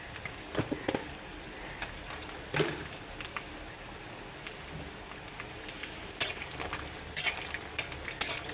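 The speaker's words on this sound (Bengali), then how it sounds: "এই যে বড়িটা ভেজে নিচ্ছি, লাল করে ভেজে নেব" Bori, Bengali lentil dumplings, sizzle softly in hot oil in a pan, a faint steady crackle broken by a few sharper scrapes and taps near the end.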